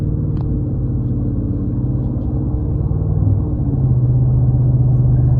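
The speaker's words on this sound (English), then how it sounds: "even with the aftermarket exhaust, it's not that loud when you're just driving normally." A 2015–2017 Ford F-150 with the 5.0 V8 and aftermarket exhaust cruising normally, giving a low, steady engine rumble heard from inside that rises slightly toward the end, fairly subdued and without voices.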